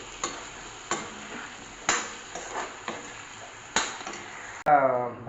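Tomato and potato frying in oil are stirred with a utensil, giving scraping strokes and several spaced knocks against the pan, then a louder clattering rattle at the end.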